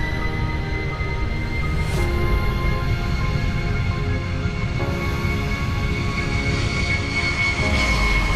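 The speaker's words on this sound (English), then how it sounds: "The aircraft lines up, throttles open, and takes off." A fixed-wing airliner takes off from an airport runway with throttles open, its engines a loud, steady roar with a high whine on top, building slightly in strength and heard alone.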